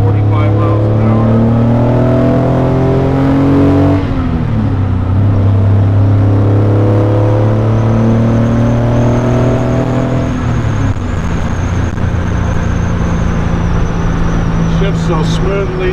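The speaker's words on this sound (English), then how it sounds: "And we're just getting on the highway here. I'm in second gear" A restored graphite gray Mercedes-Benz 300 SL pulls onto a highway in second gear at about 45 mph, its engine droning loud and steady inside the cabin, pitch rising then dipping with gear load, while someone talks over it.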